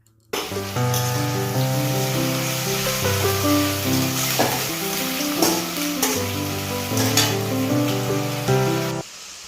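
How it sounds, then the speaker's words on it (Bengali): Garam masala with chopped and ground onion sautés in hot oil for a mutton dish, keeping up a steady sizzle with periodic stirring scrapes. A sustained layer of background music plays over the cooking sounds. "খাসি মাংসের জন্য মশলা কষানো চলছে তেলের মধ্যে প্রথমে দেওয়া হয়েছে গরম মশলা কুচনো পেঁয়াজ আর পেঁয়াজ বাটা"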